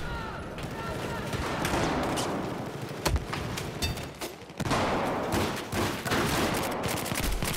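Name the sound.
machine gun fire in video game Battlefield 4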